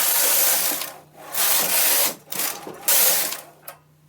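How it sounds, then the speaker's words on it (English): Knitting machine carriage sliding across the bed while knitting edge stitches with the ribber engaged every other row: a steady mechanical ratcheting whir in several passes, broken by brief pauses, with no voices. "So it's only knitting the ribber every other row."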